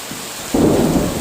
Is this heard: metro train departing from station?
no